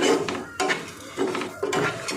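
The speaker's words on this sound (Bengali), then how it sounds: "পনিরটা দিয়ে একটু নেড়ে নেব।" Fried paneer being stirred into oats pulao in a pan: about four close, scraping strokes in a steady rhythm, with no talk.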